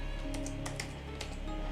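Close, quick keystrokes on a computer keyboard come in an uneven burst of light taps over a steady hum, with no voices.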